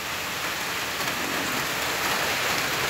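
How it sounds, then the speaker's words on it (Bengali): Steady morning rain pours down as a dense, even hiss of drops on surfaces, close and continuous with no voices. "বৃষ্টি পড়তেছে"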